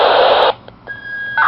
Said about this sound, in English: That big, loud, annoying beep is the out-of-band transmit that the radio does